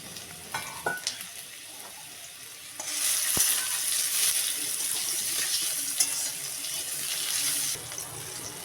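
Chopped raw mango hitting hot white oil with dried chilli and white mustard seeds, starting with a few clinks and a splash, then a loud steady sizzle with occasional stirring scrapes.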